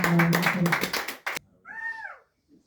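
A burst of rapid hand clapping at a church service fills the first second and a half, then cuts off abruptly, followed by a short tonal vocal sound.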